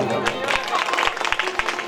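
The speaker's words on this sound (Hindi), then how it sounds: "एक बार इनके लिए जोरदार ताली की सेवा करें।" Loud, dense applause from an audience at a Hindu religious discourse, honoring those who have taken guru initiation, with steady clapping throughout the short burst.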